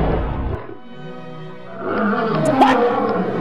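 A monster lion in an animated fight gives a loud, rough roar that swells through the middle of the clip, then gives way to busy thuds and crashes.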